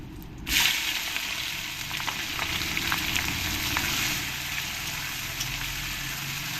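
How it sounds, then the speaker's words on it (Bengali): Cumin, whole garam masala and chopped onion fry in hot oil for butter mutton curry, a steady close sizzle that flares at the start and runs on evenly, with a few faint stirring sounds and no speech. "এবার পেঁয়াজটাকে ভালো করে ভেজে নিতে হবে"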